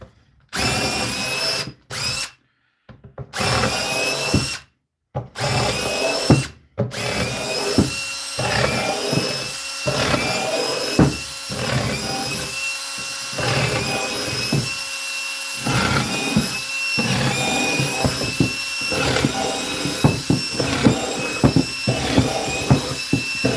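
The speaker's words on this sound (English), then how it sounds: "Time to drill some holes" A power drill runs loud and close, drilling drainage holes in a cedar planter, first in short stop-start bursts, then in a long continuous grinding stretch as it bores through the wood.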